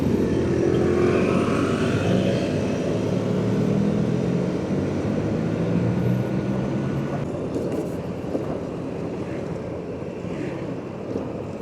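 An Aprilia SR-GT 200 scooter weighing 148 kilos cruises along a main road, its steady engine drone and tyre rumble mixed with heavy wind buffeting the microphone throughout.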